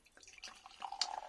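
Barleywood Orchards Vintage 2018 keeved cider being poured out, a soft trickling and splashing stream with a few brighter drips, faint and close.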